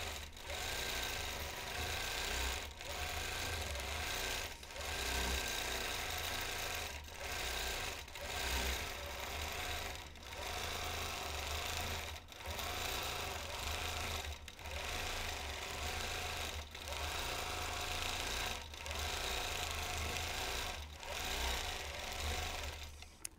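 A quilting machine runs steadily on a quilt at close range, its continuous motor hum broken by regular brief dips as it makes quick stitches.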